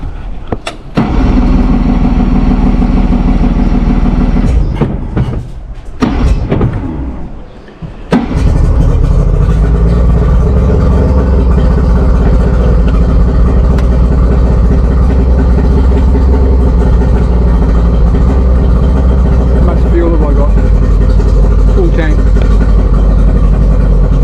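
After a quick blip of throttle, an engine cranks with a few stuttering bursts, then catches and runs at a loud, steady idle for the rest of the time, heard up close.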